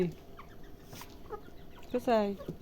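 Portuguese chickens cluck while pecking at leaves, scattered soft clucks building to a louder, drawn-out call near the end, with faint farmyard background.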